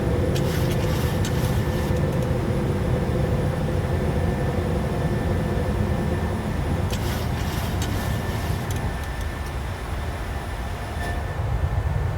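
A PMDG 737-800 jet climbs after takeoff in Microsoft Flight Simulator, its engines holding a steady, loud roar with a constant whine throughout, joined by brief rattling bursts partway through.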